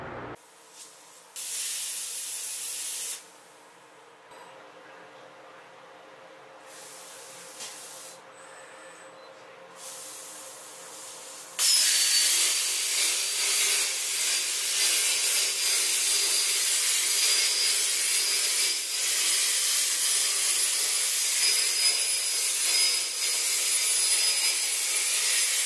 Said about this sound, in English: This is the finished cut. You see we etched it with plasma.